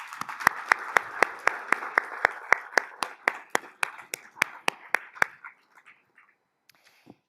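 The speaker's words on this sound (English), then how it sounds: "please give a round of applause to the Chamber for the incredible work that they do, and to yourselves" Audience at a State of the Region event gives a round of applause, about five seconds of rhythmic clapping that thins out and stops, leaving near silence.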